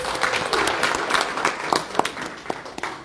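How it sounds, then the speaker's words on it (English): A conference audience claps in a crisp round of applause, individual hand claps standing out sharply over a thinner crowd wash that stays strong throughout. "give me a round of applause"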